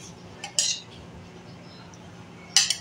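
A spoon knocks against a bowl twice as two spoonfuls of yogurt go in for besan khandiyan batter, two short bright clinks separated by a quiet pause.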